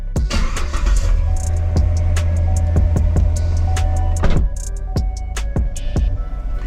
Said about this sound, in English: Crank up the Corvette.